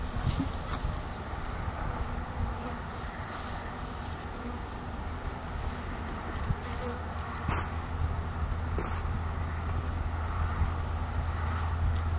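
Swarm of honey bees in a small pine tree, a dense continuous buzzing hum that fills the whole stretch at moderate level, with a few louder individual bees passing close.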